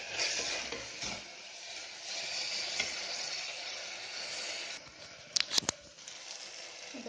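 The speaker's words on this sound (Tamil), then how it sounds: "தக்காளி கொஞ்சம் நல்லா வதங்கட்டுங்க." Tomatoes sautéing in a pan for a millet mixed-vegetable rice dish, giving a steady close sizzle with scraping stir sounds and a few sharp clinks near the end.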